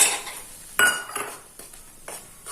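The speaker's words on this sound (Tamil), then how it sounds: "இப்போ இங்க இருக்கிற நெய்யிலேயே நம்ம இந்த கோதுமை மாவை நல்லா வறுத்துடலாம்." Wheat flour roasting in ghee in a pan, stirred with a utensil: a few sharp metallic scrapes and clinks against the pan over a soft background, close and fairly clear, with no talk.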